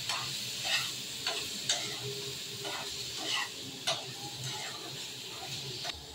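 Paneer frying in butter in a pan, a soft steady sizzle broken by repeated light scraping stir strokes at irregular intervals, close and fairly quiet.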